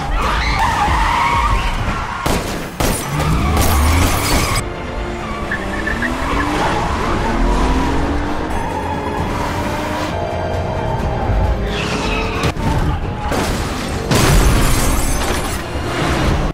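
Cars in a movie car chase skid and screech, with rising and falling tire squeals, engine roars, and sudden sharp crashes and bangs. The sounds are loud and close and play in bursts over a dramatic score.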